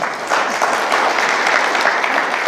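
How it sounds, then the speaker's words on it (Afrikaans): A church congregation applauding together as a steady wash of clapping that starts almost at once and holds through to the end. "Kom ons gee aan 'n klap."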